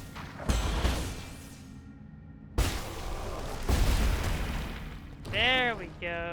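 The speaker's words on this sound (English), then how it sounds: "We need the explosion to kill this thing." Explosions in the video game Nine Sols come as three broadband booming bursts of moderate loudness, each with a decaying rumble, followed by a warbling rising electronic effect near the end.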